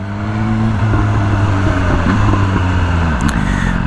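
A BMW M1000R motorcycle engine runs steadily with direct throttle mode, its loud, close exhaust note holding a strong idle-like drone with small throttle blips and wavering pitch throughout, no voices.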